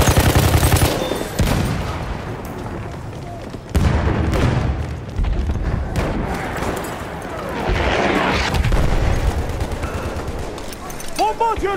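Battlefield 1 Suez conquest battle in a video game, with a thrown bomb exploding amid dense gunfire, repeated booms and bursts of automatic fire, loud and close, with a voice talking over the chaos.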